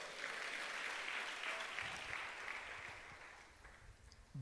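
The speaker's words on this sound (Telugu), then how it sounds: "చప్పట్లు కొట్టండి ఒకసారి." A church congregation breaks into applause, a dense wash of clapping from many hands that holds steady and fades slightly toward the end, heard at a moderate distance.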